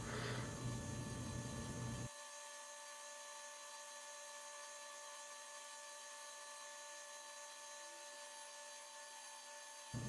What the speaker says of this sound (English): Then use my belt grinder to further rough out the shape of the palm swell